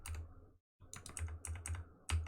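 Computer keyboard keys pressed for shortcut commands, a quick run of sharp clicky taps in uneven bursts with a brief pause near the start, close and fairly quiet.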